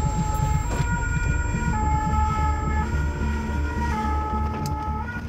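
An ambulance siren wails steadily over a loud rumbling engine, close by and continuous, with a faint electronic tone running underneath.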